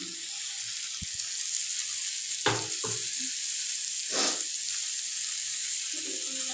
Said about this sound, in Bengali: মশলাটা এইভাবে নেড়ে নেড়ে ভালোভাবে তৈরি করতে হবে।